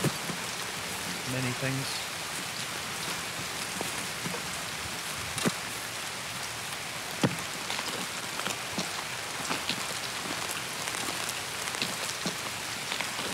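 Steady rain pattering on surfaces in the video game Escape From Tarkov, a dense even hiss with scattered sharper drops, while a voice speaks briefly over it.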